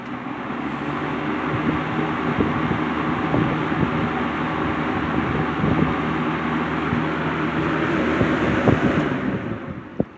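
A Lakewood S-223 20-inch box fan from the 1980s runs on its high setting, giving a steady, close broadband whoosh with a low motor hum and faint rattling ticks, and no talk over it.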